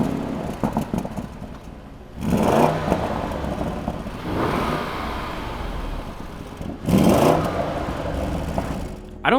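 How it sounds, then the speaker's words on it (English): An Audi RS Q8 idles with a steady exhaust burble, then roars up in two loud revs a few seconds apart, each falling back to idle. "since we're getting into exhaust, let's talk about how it sounds"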